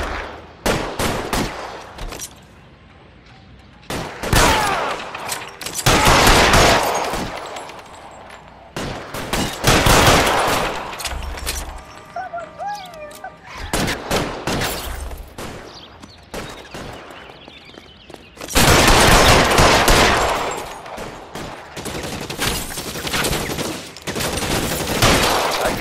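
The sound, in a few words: gunfire shootout in video game L.A. Noire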